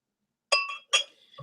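Two bright clinks of glass against glass ring out close by, with short fading tones, as beer is poured into a tall glass.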